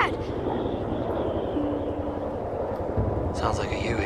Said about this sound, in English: Sounds like a Huey.